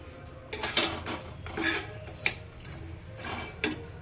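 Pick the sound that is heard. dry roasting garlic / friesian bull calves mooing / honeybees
dry roasting garlic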